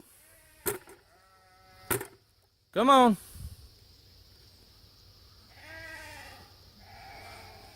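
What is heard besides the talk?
hungry sheep bleating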